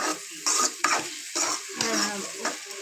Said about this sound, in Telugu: తర్వాత ఇలా వేయించాలి. ఇలా వేయించుకోవాలి.